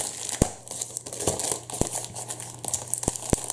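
Packaging crinkles and tears as steampunk gears are unwrapped for a scrapbooking canvas, with close rustling and several sharp ticks and taps of handled pieces.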